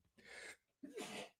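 A single close sneeze in two parts, a breathy intake then a sharp burst, in a quiet room.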